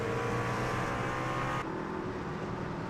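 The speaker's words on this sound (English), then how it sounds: "You hear David Hartney throttling way down, doing the coasty coast" A race car engine drones steadily at Daytona in a racing video game, then the tone drops abruptly as the driver lifts off the throttle, leaving a lower, quieter hum.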